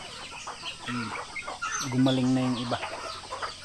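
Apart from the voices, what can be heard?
native chickens clucking noisily while being fed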